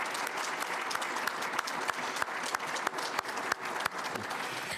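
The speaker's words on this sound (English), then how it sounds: "a round of applause for your appreciation for their time today" Audience at a health IT panel event applauding steadily, a dense round of clapping with a few sharper claps standing out, filling the room with no talk over it.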